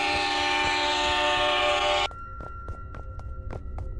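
A train in a horror video game sounds a loud, sustained horn that cuts off abruptly, followed by rhythmic clacking of wheels on track as it rolls past close by.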